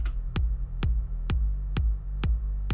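Electronic kick drum and sub bass mixed without sidechain compression: six evenly spaced punchy kicks with pitch-dropping thumps over a constant droning sub bass that stays loud between hits, so the low end sounds muddy and crowded.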